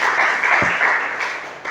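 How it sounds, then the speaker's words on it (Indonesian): Enthusiastic applause fills a church service, a dense steady wash of many hands clapping together throughout, loud and close, with no speech over it. "Tepuk tangan yang meriah buat Tuhan Yesus."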